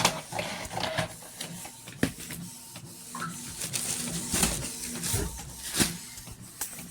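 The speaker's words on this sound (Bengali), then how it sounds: "প্রিন্ট হচ্ছে" A photo printer runs continuously while printing photos, whirring with busy mechanical clicks and feed thumps at a close, steady level with no voices.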